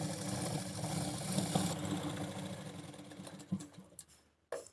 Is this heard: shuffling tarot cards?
no